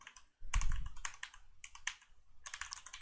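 Keys clatter on a computer keyboard as a Minecraft 1.13 command is typed, a close run of quick clicks in several bursts separated by short pauses, with no voice.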